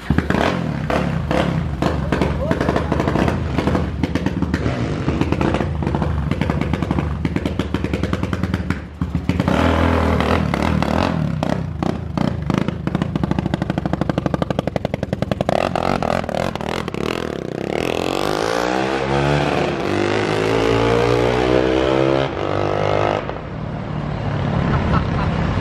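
A 330cc motorcycle with a new exhaust revs hard and loud at close range in repeated bursts, then the pitch sweeps up and falls away as it pulls off on the street.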